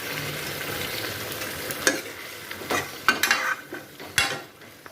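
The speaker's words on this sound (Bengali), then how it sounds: "এই যে ভেন্ডি আলু পেঁয়াজ দিয়ে ভাজি" Okra, potato and onion frying together in a pan, a soft steady sizzle broken by several sharp clinks and scrapes of a spatula stirring against the metal.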